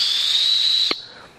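A 3D-printed flat whistle blown gently gives a thin, steady high tone that holds for most of a second, then breaks off into breathy air and a short final chirp.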